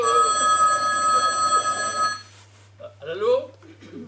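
An electronic telephone bell rings steadily and fairly loud for about two seconds, then stops as a voice begins speaking.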